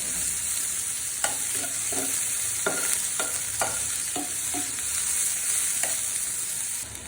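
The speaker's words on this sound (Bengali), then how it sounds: "পেঁয়াজটাকে আরেকটু ভেজে নেব" Onions fry in hot oil in a pan with a continuous sizzle, broken by a series of scraping stirs at an irregular rhythm, close and clear, with no voices.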